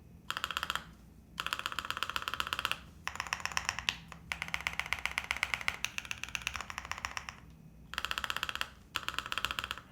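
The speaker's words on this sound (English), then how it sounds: "When you're selling a pre-made custom keyboard, the spacebar is really important." Rapid clacky keystrokes on a Luminkey75 pre-built custom mechanical keyboard with lubed stabilizers, typed in steady bursts separated by short pauses, close and crisp with no talking.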